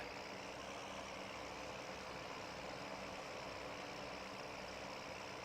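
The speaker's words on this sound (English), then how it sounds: "I wonder which tractor is faster, this R series, what is that, 6150R, or the 6610?" A John Deere tractor engine idles in Farming Simulator 2013, a low, steady, continuous hum with a faint, even rumble that never changes pace, heard alone without talk.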